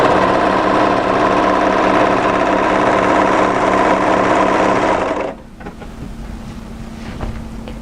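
A sewing machine runs steadily along a cardigan sleeve seam, a loud even motor hum and needle chatter for about five seconds before stopping abruptly, leaving quiet room noise with faint handling sounds.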